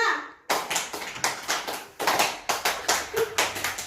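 A group clapping in a counted classroom rhythm exercise, with repeated sharp claps in a steady beat broken into short groups, close and fairly loud, with a faint voice at the start and toward the end.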